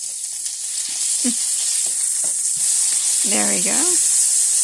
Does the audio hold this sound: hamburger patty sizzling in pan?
yes